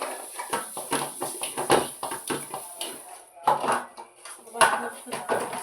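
Dishes clatter and clink during household chores, with short, irregular knocks of pots and utensils in quick succession, close by. A person talks over the clatter throughout.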